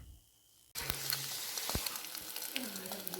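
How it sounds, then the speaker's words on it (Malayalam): A frying pan heating up for a bullseye fried egg gives a steady, close sizzle that starts suddenly after a quiet moment and carries on with scattered crackles and spits, with no talking. "മുട്ട ചട്ടിക്ക് ചൂടാക്കുന്നുണ്ട് ബുൽസ അടിക്കാനാണ്"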